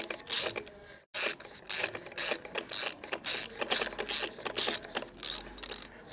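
Rapid clicking of a ratchet wrench tightening bolts on a Toyota 2JZ engine crankshaft, loud and close in repeated bursts with a brief pause near the start, no talking.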